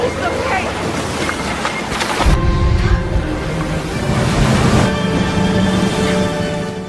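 Ocean waves wash and rumble out at sea with gusts of wind noise, fairly loud and continuous, partly under a narrator's voice.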